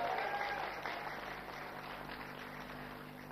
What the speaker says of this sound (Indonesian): saya mohon tepuk tangan sekali untuk menyemangati pada debat hari ini